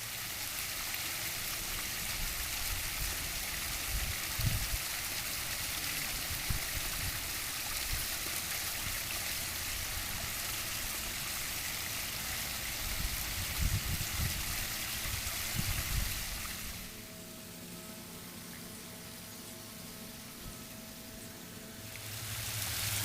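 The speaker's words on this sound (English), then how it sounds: "The waterfall has about an overall height drop of about 6 feet, and we've broken that up into 9 different cascade areas" Water from a backyard pondless waterfall with a six-foot drop over nine cascades splashes and rushes continuously into gravel, a steady close roar that softens to a lighter trickle near the end.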